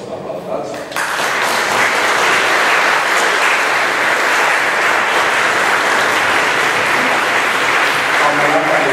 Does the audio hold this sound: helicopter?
no